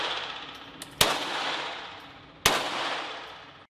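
Two loud gunshots ring out at an outdoor shooting range, spaced about a second and a half apart, each a sharp crack followed by a long, echoing decay, with a faint click just before the first and no talking.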